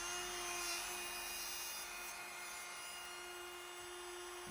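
A router cutting a rebate into a wooden workpiece, producing a steady high whine with a constant tone and a gritty rasp of wood being cut, continuous and fairly faint throughout.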